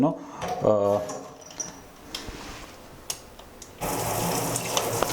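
A flexible kitchen tap runs water into a pure stainless steel sink, a steady rushing splash that starts loudly near the end after quieter clicks and knocks, with a voice speaking briefly at the start.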